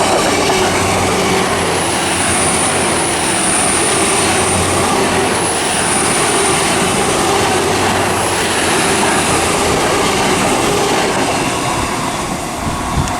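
Class 66 diesel locomotive carrying the Maltby Raider nameplate passing at Reading West on the Great Western Main Line, a loud, steady roar of engine and rolling wagons sustained throughout with a low throbbing hum.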